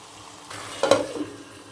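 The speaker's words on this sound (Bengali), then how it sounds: "উল্টে পাল্টে ভালোভাবে মিশিয়ে নেব।" A spice paste of onion, ginger and nut paste fries and gets stirred in a pan for chicken pulao, a low steady sizzle rising into a louder scraping stir and sizzle.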